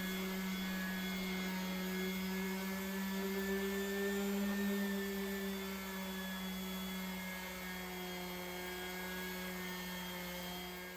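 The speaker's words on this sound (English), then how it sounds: "now I'm just using the random orbital sander with 240 grit just to make it nice and smooth and sort of shiny." A random orbital sander fitted with 240 grit abrasive smooths a rusty metal top, giving a continuous steady whine with strong tonal hum, moderately loud and close, uninterrupted and with no voices.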